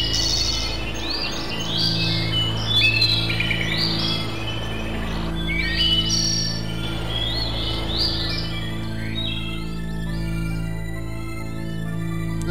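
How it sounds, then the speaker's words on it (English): Birds chirp and trill loudly in a Gabriel Knight 2 game scene, with repeated bright calls over a steady low hum and insect-like buzz that runs throughout. "Those are some pretty loud birds, by the way."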